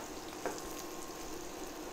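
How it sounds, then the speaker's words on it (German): Cubes of bread fry in olive oil in a pan for a bread salad, giving a soft, steady sizzle and crackle throughout, close up and fairly quiet, with one slightly louder pop near the start. "Richtig schön im Olivenöl brutzeln, dass das richtig schön knusprig von allen Seiten ist."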